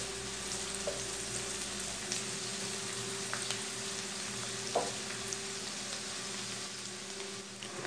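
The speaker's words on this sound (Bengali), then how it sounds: "আগে তেলটা গরম হয়ে আসছে, আমি এখন রসুন কুচিগুলো দিয়ে দেব" Chopped garlic sizzling in hot oil in a pan while making a quick bean and tomato dish, a steady soft crackle with a low hum underneath and a few faint clicks, no talking.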